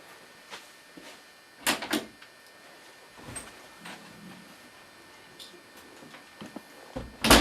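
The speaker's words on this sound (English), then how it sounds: "I'll have to open the door" An indoor door is opened in a home, giving a few short knocks and clicks of the handle and frame, with a louder clunk near the end, fairly close and otherwise quiet.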